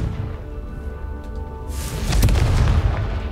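A Confringo explosion spell detonates in Hogwarts Legacy, a loud booming blast with a broadband roar and crackle that swells near the middle and lingers over a rumbling game background, with no talking.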